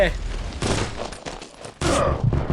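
Bursts of loud explosive blasts from a grenade launcher and gunfire in the mobile game Combat Master, several booms in quick succession.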